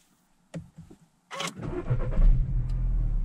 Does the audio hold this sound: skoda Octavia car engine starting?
yes